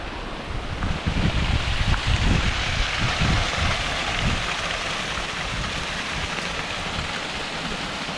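A large waterfall on the Sheepskin Hollow hike in East Haddam, Connecticut, approached along a trail lined with many smaller cascades, a loud continuous broadband roar and rush of falling water that fills the scene without pause.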